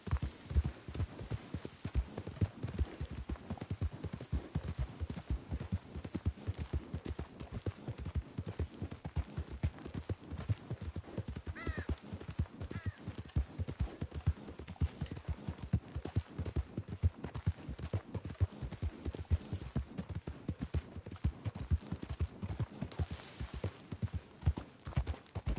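Horse hooves clip-clop at a steady trotting pace in the Red Dead Redemption 2 video game, a fast, continuous run of close, even hoofbeats over a low rumble.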